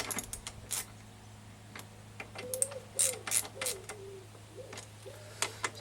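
A hand ratchet clicks on small 10 mm bolts while work is done on a Yamaha SR125 motorcycle's chain and sprockets, with close, irregular bursts of ratcheting and metallic clicks separated by brief pauses.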